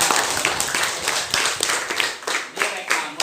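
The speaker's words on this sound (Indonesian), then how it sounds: "tepuk tangan untuk Siva" Students applaud a classmate in a classroom: a dense, steady wash of many hands clapping together, fairly close and loud, holding for the whole stretch with uneven swells and no voices clearly standing out.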